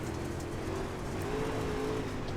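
Super late model race cars howl around a dirt track at Eldora in the iRacing game, a steady loud engine drone with shifting pitch running throughout, no pauses.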